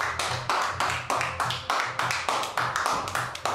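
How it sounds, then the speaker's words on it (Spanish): A short burst of rhythmic clapping, about ten even, close claps at a steady pace like a small group or one person applauding in a room. "Un aplauso"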